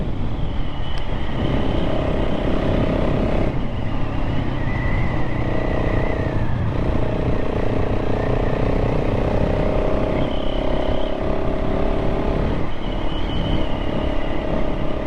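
KTM 690 SMC R motorcycle with a changed exhaust pipe, running steadily for the whole stretch, a loud, close engine drone with shifting tones from throttle changes and no talk.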